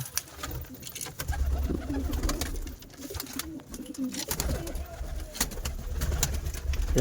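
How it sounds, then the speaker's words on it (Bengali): Local pigeons and Madrasi pigeons in a loft coop coo in low, repeated rolling phrases throughout, close by, with soft fluttering and handling noises mixed in. "দেশি পায়রা"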